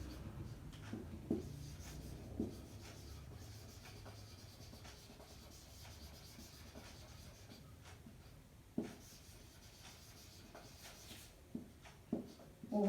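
Quiet scratching of a pen writing a perimeter formula by hand, a faint continuous rub with a few soft taps and knocks and no speech.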